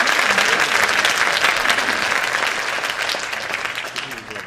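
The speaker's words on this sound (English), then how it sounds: "Another round of applause for my amazing orchestra." Dense, loud applause from a spring concert audience in Syosset rewards an orchestra, a steady wash of clapping that gradually tapers near the end.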